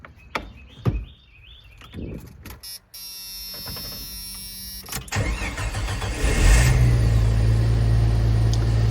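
A Jeep Wrangler YJ engine cranks after fuel system work, with clanks and a few brief starter whirs before it catches around the midpoint and settles into a loud, steady idle close by.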